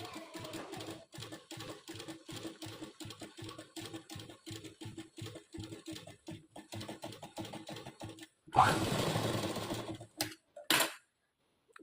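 A sewing machine stitches a frock in a quick rhythmic run of close mechanical clatter, stopping and restarting, then a short burst of louder rustling and handling noise near the end, no talking.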